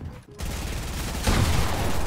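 Rapid Fortnite gunfire in a loud, dense burst of repeated shots that swells and grows heavier toward the end, with no talking over it.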